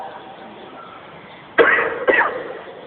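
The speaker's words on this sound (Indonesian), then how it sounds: "Sampai ada batuk-batuk, lagi." Two sharp, close coughs in quick succession at a Saturday morning religious lecture, breaking a quiet background hum.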